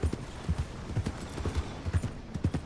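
Steady clip-clop of horse hooves trotting in the video game Red Dead Redemption 2, a quick regular rhythm of hollow thuds, fairly close, with no talking.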